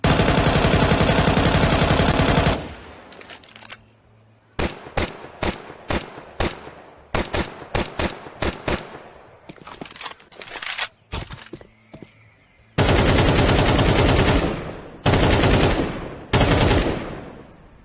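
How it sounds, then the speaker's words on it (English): Rapid bursts of AK-47, Glock 18 and Galil Arc gunfire from the Counter-Strike 2 beta video game, loud and close, with long sustained automatic volleys at the start and end and sharp single and short-burst shots in between. "The other weapons that were reworked are Galilei Arc, Glock 18 and the AK-47, which I also believe they have a more realistic sound right now."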